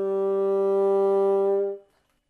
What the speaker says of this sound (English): whereas others have a much more muted, dark and covered sound